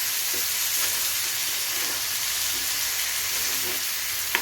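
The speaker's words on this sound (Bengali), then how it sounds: "এবার আমি মশলাটা ভালো করে কষিয়ে নিচ্ছি" Spices sautéing in a pan for a carrot, potato and green pea vegetarian curry, a steady close hiss of frying with faint intermittent stirring scrapes throughout, no talking.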